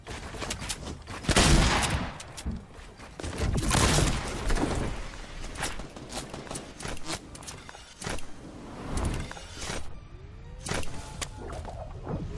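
Fortnite Battle Royale gunfire, shots fired through cover during a match: dense irregular bursts of loud shots and impacts with brief lulls, mixed with scattered clatter and movement noises.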